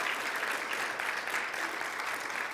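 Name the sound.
church congregation applauding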